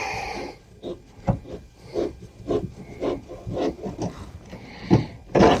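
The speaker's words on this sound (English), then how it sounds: "Same deal. I'm going to take the screw right out." Small scraping and clicking turns sound as a screw is backed out of a heater control cable bracket under the dash of a 1979 Ford F100, a close, irregular series of short rasps and taps.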